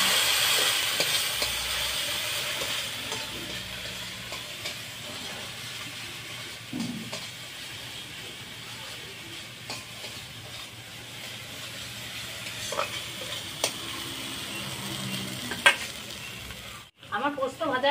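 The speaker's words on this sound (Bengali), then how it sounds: "আমার পোস্ত ভাজা হয়ে গেছে" Mustard and poppy seed paste with turmeric and salt fries in a pan with a continuous close sizzle and stirring scrapes, ending with a metallic clank.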